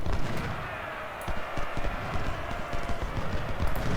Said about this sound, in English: we hear what appears to be cavalry